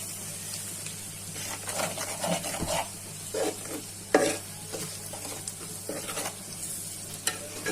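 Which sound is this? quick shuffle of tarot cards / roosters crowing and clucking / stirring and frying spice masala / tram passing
stirring and frying spice masala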